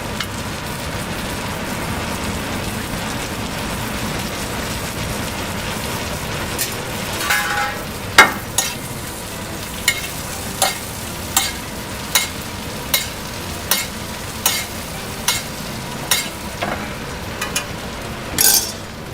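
Beef fillet steak searing in a frying pan, a continuous steady sizzle with a run of sharp evenly spaced taps and clicks over it in the second half.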